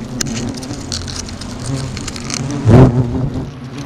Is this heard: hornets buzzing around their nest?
yes